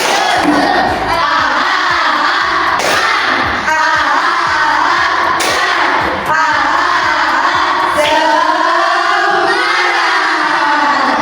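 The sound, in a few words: schoolchildren doing rhythmic spirit clapping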